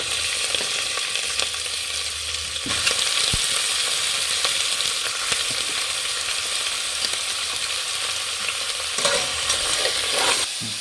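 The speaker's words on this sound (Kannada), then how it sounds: "ಎಣ್ಣೆ ಬೆಣ್ಣೆಯಲ್ಲಿ ಚೆನ್ನಾಗಿ ಚಿಕನ್ನ ಹುರಿಬೇಕು" Chicken pieces frying in butter and oil, a loud continuous sizzle close up with intermittent spoon-stirring knocks against the pan, no speech.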